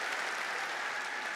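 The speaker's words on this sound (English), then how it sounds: "Clap for him, please." Audience clapping at a technology conference presentation, a dense, steady burst of applause from a large crowd throughout.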